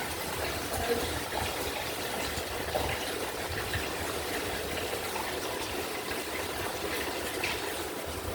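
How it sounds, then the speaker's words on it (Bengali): Water pours into a pan of Bengali magur fish curry with raw banana and potato, a steady close gush that runs the whole time with no talk over it. "আমি একটু ভালো জল, খাবারের জল এখন তুলে দেবো, বেশি করে তুলে দেবো"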